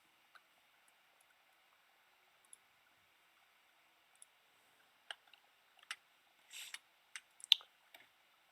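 Mouse clicks while modding Hearts of Iron IV on a computer: several crisp, sharp clicks, sparse at first then clustered in the second half, faint and close over a quiet low hiss.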